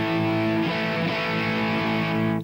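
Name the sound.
electric guitar played through a distortion pedal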